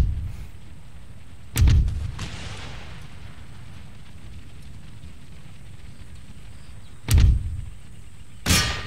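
Cannon artillery fire in the battle game Empire Total War: three booming shots, one early and two near the end, loud and heavy with rumbling tails over a quiet battlefield background.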